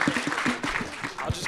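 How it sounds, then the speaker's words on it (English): Audience applause for a borough president at an architecture talk makes a brief, dense burst of clapping at moderate loudness, lasting only a moment. "Join me in a round of applause to the Borough President"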